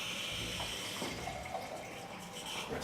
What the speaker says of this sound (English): And fill up a glass of the filtered water.